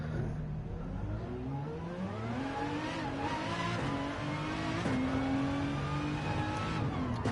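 A V12 racing car in Gran Turismo 7 roars through an online GT3 lobby race, its revs rising in repeated climbs between gear changes, with faint tyre squeal. The engine is loud and continuous, with no talking.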